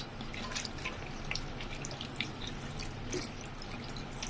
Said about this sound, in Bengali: এইবার একটু জল দিয়ে এটাকে করে নেব পেস্ট